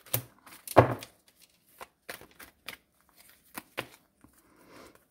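Tarot cards drawn from a deck during a reading: a series of short, crisp card snaps and slides, scattered and close, with quiet gaps between them and no talk.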